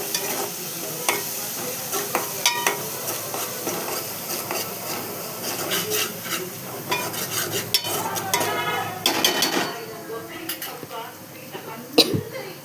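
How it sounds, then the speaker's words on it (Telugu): Ginger paste and a little turmeric fry in hot oil while a spoon stirs, giving a soft sizzle broken by scraping and clinking against the pan, with occasional louder knocks. "అల్లం పేస్ట్, కొంచెం పసుపు, పచ్చి వాసన పోయేదాకా బాగా వేయాలి."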